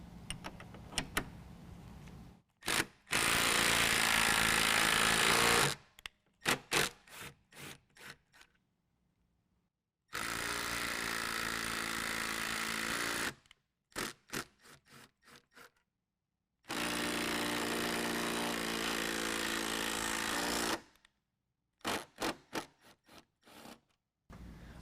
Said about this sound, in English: now that we've got all our holes drilled and nutserts installed